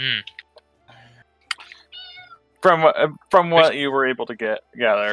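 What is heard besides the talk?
cat meowing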